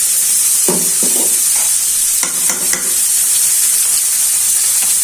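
Sliced green chillies and salt go into a hot frying pan of yardlong bean bhaji, a loud steady sizzle broken by a few close clattering stirs.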